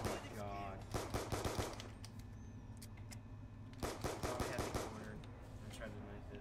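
Gunfire in a zombies shooter game, rapid automatic bursts of close shots in two clusters separated by a lull, with faint voices in the background.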